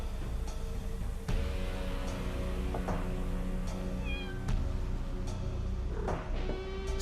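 A cat meows repeatedly in the Chaos on Deponia video game, several clear drawn-out mews spaced over a quiet ambient background with occasional sharp clicks.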